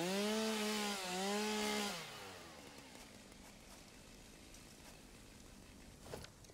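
Chainsaw in the game Satisfactory cutting down a tree, a loud rising and falling engine whine for about two seconds that then drops away to a quiet low idle, with a brief clunk near the end.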